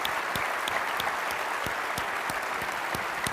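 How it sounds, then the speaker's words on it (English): An audience at a St. Louis DARPA forum claps steadily, dense applause from a crowd that holds at an even level throughout, with a few sharper individual claps standing out. "Applause for you."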